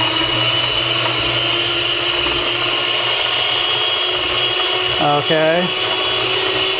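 A cheap stand mixer beats softened butter with a steady motor whine and drone that never lets up, and a voice speaks briefly near the end.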